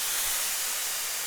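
A steam iron lets out a steady, close hiss of steam. The hiss is loud and continuous throughout, with no pauses.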